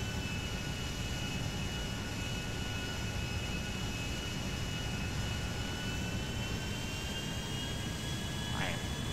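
A jet plane engine in GTA V drones steadily, a loud sustained roar with a high whine running throughout, holding constant with no pauses.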